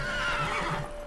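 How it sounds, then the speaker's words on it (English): A horse in The Witcher 3: Hearts of Stone on Xbox One X gives a short, loud, wavering neigh that fades out within about a second. "Ah, it's a horse!"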